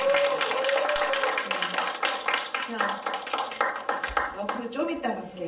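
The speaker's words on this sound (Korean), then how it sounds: "선생님들 스스로에게 박수 한번 치겠습니다" Workshop participants for community activists clap briefly in a small room, scattered hand claps mixed with people talking over them.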